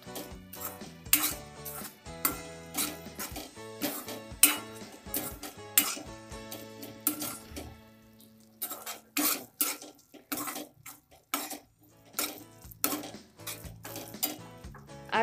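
Chicken biryani masala being stirred and sautéed in a pan: a steady run of sharp metal spoon clinks and scrapes against the pan, with no talking.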